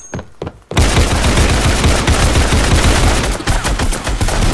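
Rapid automatic gunfire from a video game bursts in after a brief quiet start, loud and continuous with repeated sharp shots, then fades and returns in clusters toward the end.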